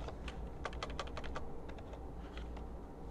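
Computer keyboard typing in bursts of quick keystrokes, clustered clicks with short pauses between runs, over a steady low background hum, fairly close and moderately quiet.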